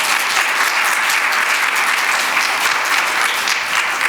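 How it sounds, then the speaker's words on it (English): A roundtable audience gives a steady, dense round of applause for the panel, loud and sustained throughout without a break. "If we could give them all a round of applause"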